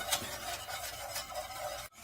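A close, steady sizzle with rhythmic scraping strokes as flour is stirred while deep frying in a pan for a roux.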